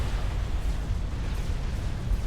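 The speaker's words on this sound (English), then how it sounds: "Oh, I hear an explosion." Explosions rumble through a Supreme Commander battle, a dense, continuous low boom and crackle that stays loud throughout with no voices over it.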